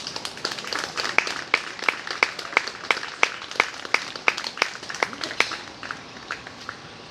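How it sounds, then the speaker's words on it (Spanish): Church congregation claps in a fairly steady rhythmic beat, distinct individual claps in unison, fading and slowing toward the end. "Demos un aplauso de Jesucristo."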